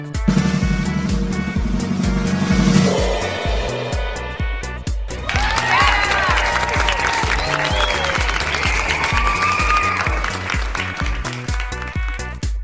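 Loud applause fills the whole stretch, steady clapping from a group, with a brief musical tone near the start.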